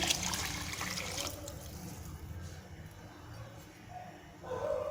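Two measured cups of water poured for vegetable biryani made with ordinary rice pour in a loud, rushing stream for about a second. A quieter, ongoing trickle and dribble follows.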